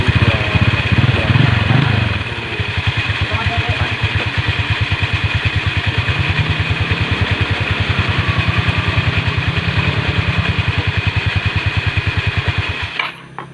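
A Yamaha Mio Soul scooter engine starts up after rear pulley seal work and settles into a steady, loud close idle with a rapid regular pulse, cutting off just before the end.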